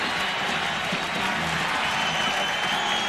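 A basketball arena crowd at Illinois roars steadily through a 1988 college game against Indiana, a dense, continuous wash of cheering and applause filling the hall at close range, with no pause.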